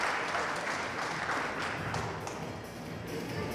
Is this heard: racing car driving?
no